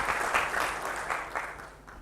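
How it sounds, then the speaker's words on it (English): Audience applause at a pitch event as a company founder walks on stage, a soft, fairly distant wash of clapping that swells and fades slightly over two seconds. "A round of applause to him as he comes on stage."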